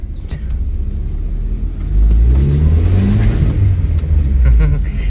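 A car carrying three people revs up and accelerates hard from a standstill, its low, steady exhaust rumble loud and close, rising in intensity midway through.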